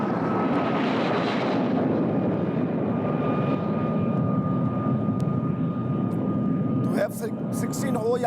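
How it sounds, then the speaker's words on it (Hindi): A military fighter jet, an F-16 or JF-17, roars overhead in a loud, sustained broadband rush with a faint engine whine, holding steady for several seconds before tapering slightly near the end. "F-16 हो या JF-17, दोनों ही लड़ाकू विमानों से एक के बाद एक हमले किए गए।"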